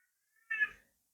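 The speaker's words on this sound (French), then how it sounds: "Mon chat, il est devenu fou. Ça y est, ça va crier." A cat lets out a single short, loud meow, close to the listener, with silence before and after.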